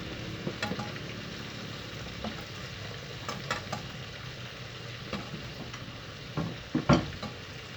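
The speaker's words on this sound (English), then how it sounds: "At the same time, both are frying together." Soft, steady sizzling of Caribbean bake dough frying in oil, with a few scattered clicks and scrapes of stirring.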